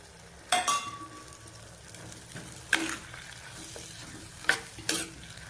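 Boiled potatoes being stirred into a tamarind dry fish curry in a pot, with soft bubbling and several sharp spoon clinks and scrapes against the metal vessel, close and fairly quiet.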